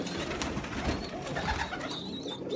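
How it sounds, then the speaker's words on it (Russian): A large domestic pigeon in a pigeon loft coos softly and continuously at close range, low rolling calls over a faint background hum. "настолько вот он крупный, огромный голубь"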